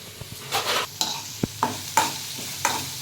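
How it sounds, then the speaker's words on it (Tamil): Shallots and curry leaves sauté in a pan for adai dosa batter, a soft frying hiss broken by several sharp spatula scrapes and taps close by, with no talking. "சின்ன வெங்காயம் இருந்தாலும் உங்கள்கிட்ட சேர்த்துக்கோங்க. இது கூடவே கருவேப்பிலை, இது நல்லா வதக்கிக்கலாம்."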